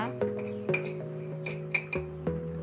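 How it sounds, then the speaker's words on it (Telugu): Coriander seeds roasting dry in a kadai without oil, heard as a metal spatula scraping and tapping the pan in irregular clinks over a low steady hum, close and moderately quiet. "ఇక్కడ మనం కళాయి పెట్టి దీంట్లో కొంచెం ధనియాలు దోరగా వేగిన తర్వాత"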